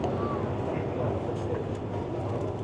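Steady low rumble of a London Underground train in motion near Waterloo, continuous and fairly loud, with faint voices murmuring in the background.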